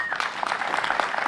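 A brief burst of audience clapping at a 2020 pride flag raising in Westfield, dense and fairly close.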